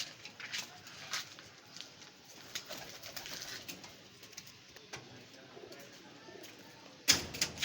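A female pigeon coos softly and intermittently indoors, faint and close, with small rustles and a sharp clatter near the end.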